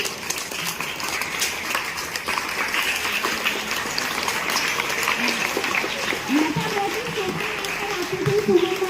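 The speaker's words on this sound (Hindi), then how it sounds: "जोरदार तालियां होंगी" A school audience at a 10th-class honour ceremony claps in loud, continuous applause, a dense patter of many hands, with a voice speaking over it.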